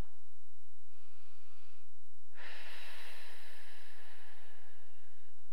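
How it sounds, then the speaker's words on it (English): Heavy breathing during pole yoga, a long hissing exhale building after a quieter breath, steady over a low electrical hum with no talking. "Breathing, good job."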